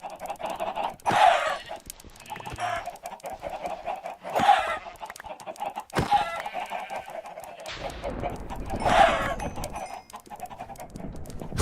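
Chickens in the Minecraft video game cluck and squawk in short repeated bursts, loud and close, with a few sharper hurt-sounding calls spaced a couple of seconds apart.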